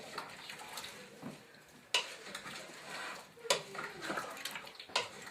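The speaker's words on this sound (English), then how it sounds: "Stir that, and now this has to come to a boil." A spoon scrapes and clinks against the inside of a Crockpot Express pot as ingredients are stirred, with several sharp knocks against the metal and a soft bubbling hiss underneath, close and fairly quiet.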